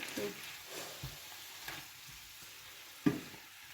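Onion fries quietly in a pan over lowered heat for lomo saltado, giving a soft, faint sizzle with a few light stirring scrapes and one sharper tap near the end.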